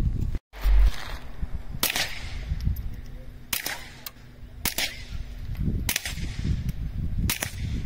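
Gunshots during outdoor target shooting, sharp single cracks spaced a second or more apart over a low rumbling background, with occasional quiet voices nearby.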